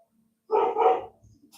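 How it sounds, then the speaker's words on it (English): An Airedale terrier lets out two quick, loud barks close by, back to back, then a few faint trailing sounds with no talk. "That's my Airedale."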